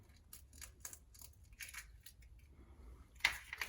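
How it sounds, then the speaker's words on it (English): Eggs cracked one after another into a Pyrex glass bowl in a home kitchen, faint light taps and clicks with soft shell snaps and a sharper knock near the end, no talking. "I'm also going to crack these eggs while I'm waiting on that to put my egg mixture together."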